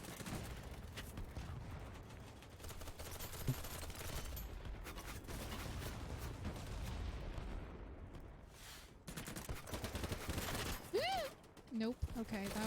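Video game gunfire, continuous rapid shooting with booming hits under a thick layer of game sound, thinning near the end where a voice and other effects come through.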